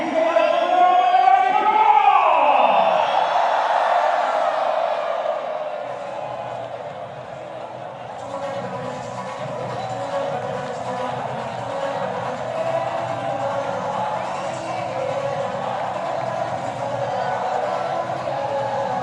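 Large cricket stadium crowd at a Pakistan vs Sri Lanka match, a steady roar of cheering and noise that swells loud at the start, then settles into a sustained, distant hum with scattered shouts.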